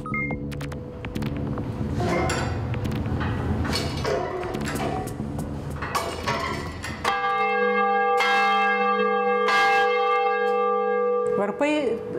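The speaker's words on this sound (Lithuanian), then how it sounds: "Varpai nuo senų senovės kviesdavo kažkur." Church bells ring with resonant tolls, mixed and fainter at first, then swelling into loud, sustained ringing with long overlapping tones.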